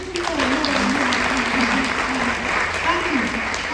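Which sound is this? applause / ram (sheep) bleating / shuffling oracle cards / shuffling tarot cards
applause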